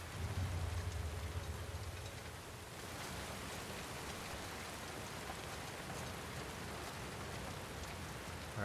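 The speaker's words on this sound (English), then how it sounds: "It's raining, the grass is so," Steady rain falls in The Last of Us Part II, a dense, even hiss of drops on surfaces and grass, heavier in the first few seconds and then constant, with no voices.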